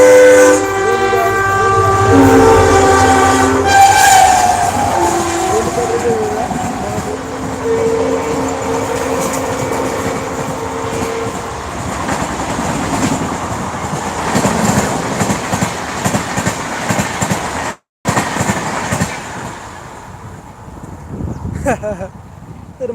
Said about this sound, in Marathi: तर रेल्वे आली आहे दोन मिनटं थांबवा आपण